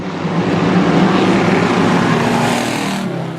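Racing cars in a crazy-racing video game hold a loud, continuous engine drone that stays steady, with no talk over it.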